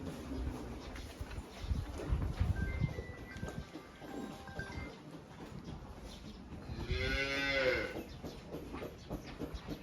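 A cow on a cattle farm gives one loud, drawn-out moo near the end, heard close by over a steady murmur of farmyard background noise.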